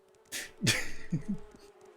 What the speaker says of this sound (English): Okay, so there's probably some bees or something.